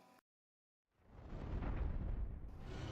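A brief quiet gap, then a deep rumbling boom swells up and holds, a loud low roar like a cinematic explosion, from a battle scene in the Indian historical film Jhansi Ki Rani.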